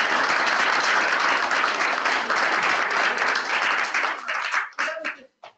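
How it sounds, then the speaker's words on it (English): An audience at a research forum on smart building controls gives a loud, sustained round of applause that tapers off into a few scattered claps near the end. "let's give a round of applause to you"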